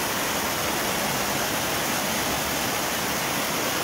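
Rushing water of the Ribeirão dos Toledos stream in Santa Bárbara d'Oeste on a rainy morning, a loud, steady broadband roar that fills the whole stretch without a break.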